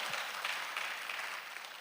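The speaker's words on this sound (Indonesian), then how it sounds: "Tepuk tangan bagi Allah kita." Congregation applauding during a church service in Surabaya, a steady wash of clapping hands that fills the space evenly for a couple of seconds, moderately loud and without voices on top.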